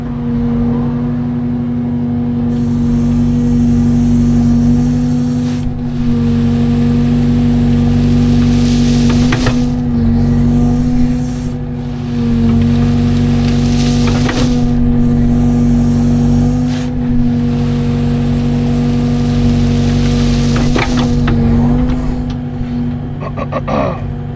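A skid steer fitted with a roller attachment runs steadily in a backyard, a loud continuous engine drone with a strong hum and periodic bursts of surging noise throughout.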